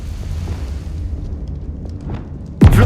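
A Confringo explosive spell blast in Hogwarts Legacy erupts as a single loud, sudden boom near the end, after a quiet stretch of faint rumbling ambience.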